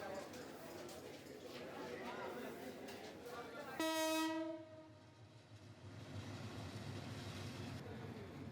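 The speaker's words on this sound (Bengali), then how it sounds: "আজকে অবশ্য ট্রেন ছাড়ছে" A passenger train departing, its loud sustained horn blaring for about a second over the rumble of the rail cars, with a crowd murmuring in the background.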